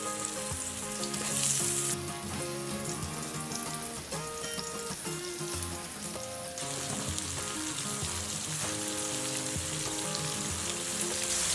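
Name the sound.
meat-stuffed spring bamboo shoots frying in oil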